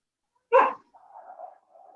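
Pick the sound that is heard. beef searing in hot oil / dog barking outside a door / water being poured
dog barking outside a door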